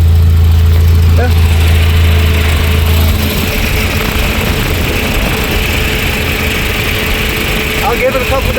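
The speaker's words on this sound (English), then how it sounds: "It's a happy engine. Good old B230, tough to kill." A 1986 Volvo 745 with the B230 engine idles steadily nearby, a low even drone that holds through the whole stretch, with a slightly heavier low hum in the first few seconds.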